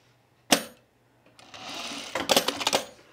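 A sewing machine tacks and top-stitches pajama bottoms: a sharp clack, a pause, then a rising burst of rapid mechanical stitching with clattery peaks, close and fairly loud.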